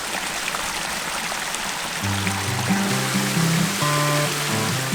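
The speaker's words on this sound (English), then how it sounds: "I am sitting at the top of the first waterfall" A waterfall and mountain stream rush steadily over rock in the Brecon Beacons, a constant close wash of water with a low tonal hum entering partway through.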